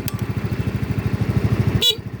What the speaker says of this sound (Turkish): Bu kornası.